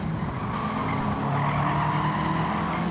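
A race car in Gran Turismo 7 skids and sideswipes a rival at Tsukuba, its engine droning steadily beneath a sustained tire scrub, with no talking.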